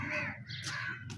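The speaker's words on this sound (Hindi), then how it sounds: "देखो कौवों की बारात जा रही है।" A flock of crows passes over a rural village during the wheat harvest, giving a few loud, close, harsh caws in quick succession with no talking.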